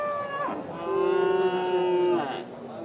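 A white cow at a busy rural livestock market lets out one long, loud, close moo that swells and holds for well over a second before trailing off.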